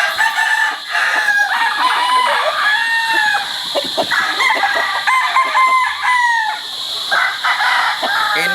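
A big-bodied brown red rooster crows loudly and close, over and over, amid a busy yard of other fowl crowing and clucking all around.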